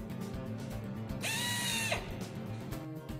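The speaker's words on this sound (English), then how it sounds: "Drill holes for the mounting bracket." A power drill boring holes for a mounting bracket on a Mercedes engine, one short whining burst that rises and falls over a low background hum.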